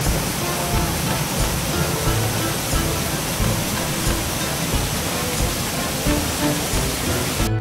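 Heavy water rushes steadily through the water mills at Rudaria in the Banat region during the rainy season, a loud, dense, continuous roar with no pauses.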